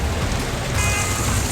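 Heavy monsoon downpour in Rajouri, Jammu and Kashmir, a loud dense steady hiss of rain with a low rumble underneath and no voices.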